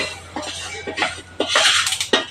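Shredded cabbage with asafoetida and sesame seeds is stir-fried in a pan, with a spatula clattering and scraping against the metal in quick, irregular strokes, close up and fairly loud, with no voices.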